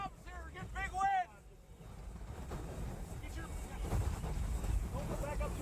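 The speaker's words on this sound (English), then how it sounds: "We're getting big wind." Strong wind buffeting near a violent tornado in Oklahoma, a loud rushing roar with microphone gusts, people talking over it at the start.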